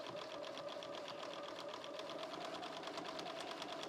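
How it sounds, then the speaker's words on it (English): A sewing machine runs steadily, stitching a narrow seam along an etui box, with a continuous rapid needle clatter at moderate distance and no pauses. "we'll take this to the sewing machine and we're going to stitch along here"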